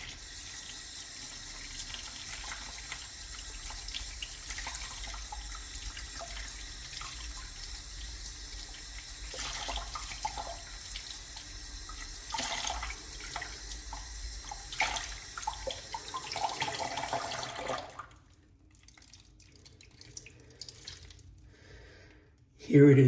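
A tap runs steadily into a sink as a shaving brush is rinsed under it, a close, continuous splashing rush that stops abruptly near the end, leaving quieter room sound.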